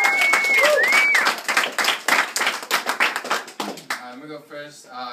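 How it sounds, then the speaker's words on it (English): Audience applause breaks out in a room, many hands clapping briskly and then thinning into scattered claps that fade, with a whistle near the start and a voice speaking as it ends. "So give these guys a round of applause one more time."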